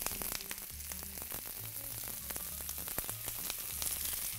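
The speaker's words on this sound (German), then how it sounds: "Dann habe ich hier Zwiebeln in Streifen geschnitten, die kommen ins heiße Öl." Onions cut in strips and finely chopped garlic frying in hot olive oil, a steady close crackling sizzle with scattered pops over a faint low kitchen hum, no talking.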